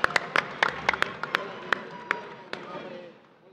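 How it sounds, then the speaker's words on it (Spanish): A small audience at a radio show claps in sparse, sharp hand claps that thin out to isolated single claps before fading, with room murmur and voices underneath. "Esto se merece un aplauso"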